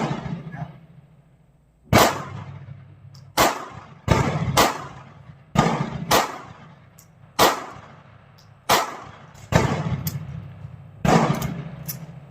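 Ruger LCP II .380 pistol firing steel-case rounds: nine sharp, loud shots ring out at uneven intervals of about one second, each with a short decaying tail, alone with no voices.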